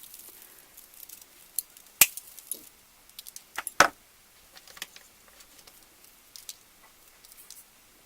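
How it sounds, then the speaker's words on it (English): Wire cutters snipping through the branches of a flocked artificial tree, with a few sharp, close clicks standing out among soft rustling and crinkling of the bristles. "with the wire cutters, I'm going to get in there and give it a cut."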